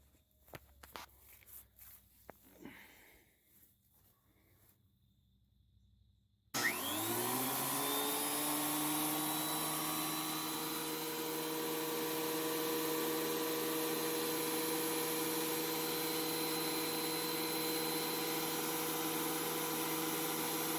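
A Ridgid R4330 benchtop planer, just fitted with a repaired blade lock bar, starts after a few soft handling knocks and clicks, then runs with a loud, steady motor roar and whine close by until the end.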